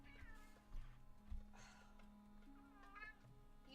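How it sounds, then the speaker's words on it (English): A house cat meows repeatedly in a bedroom, several drawn-out, fairly faint cries over a steady background hum. "I'm gonna let my cat into my bedroom real quick."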